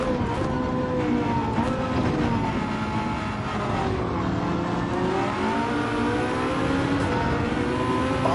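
Car engine in Gran Turismo 7 played in VR, a steady loud drone with rising and falling revs throughout, the pitch sweeping up and down as the car accelerates and lifts off the throttle.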